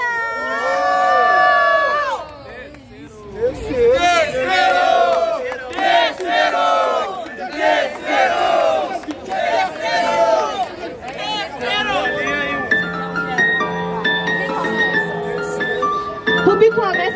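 A crowd at a freestyle rap battle cheers and yells loudly, a dense burst of voices and shouts that dips briefly and then rises again into whooping, with a sustained musical tone entering near the end.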